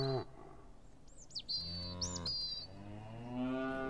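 Farm cows moo loudly and close by in a couple of long, drawn-out calls, with faint bird chirps in the background.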